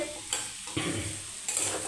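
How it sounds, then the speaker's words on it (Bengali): Potatoes frying in a pan for a potato bhujia, stirred in a few short scraping bursts over a steady close sizzle, with no talking. "আলুটা আমার ভাজা হয়ে গেছে"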